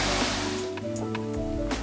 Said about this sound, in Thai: น้ำตกไซโยกน้อยนะครับหรือว่าน้ำตกเขาพังเนี่ยเป็นหนึ่งในน้ำตกที่มีชื่อเสียงของกาญจนบุรีนะครับ